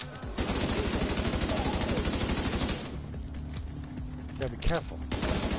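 Rapid automatic gunfire in The Division 2 rattles in a fast sustained burst, then breaks into scattered shots and a louder single report, while someone speaks briefly over the shooting.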